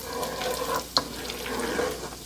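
Garlic sautéing in a hot pan while being stirred: a steady soft sizzle with light scraping runs throughout, with one brief utensil knock near the middle.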